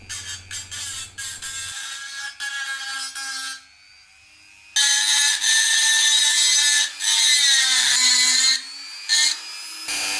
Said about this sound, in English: the grinding bits that come with this are very soft and they're not much good for taking anything other than the paint off